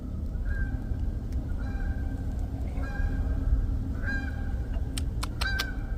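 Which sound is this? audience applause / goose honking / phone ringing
goose honking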